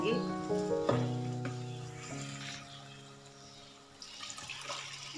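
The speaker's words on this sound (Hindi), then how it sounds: "ये अब हमारी दाल जो बड़े अच्छे तरीके से इसमें फ्राई हो गई है। अब इसमें हम पानी ऐड करेंगे।" Dal mash that has been fried in a pan sizzles loudly, and water poured in makes a hiss and bubbling splash, with a steady fry underneath and a few tonal clinks.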